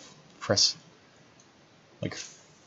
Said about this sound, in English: The clicks themselves actually are some better. They're a bit heavy